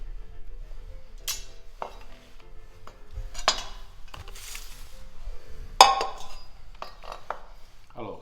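A knife cutting the woody end off asparagus, with scattered clinks and sharp taps on a board or dish, close and sparse against a quiet kitchen.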